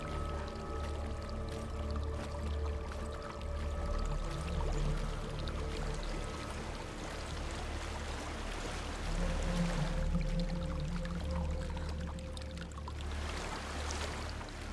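A steady rushing waterfall in the video game Hellblade: Senua's Sacrifice, a constant broadband wash of falling water with low tonal drones layered beneath, fairly quiet and unbroken.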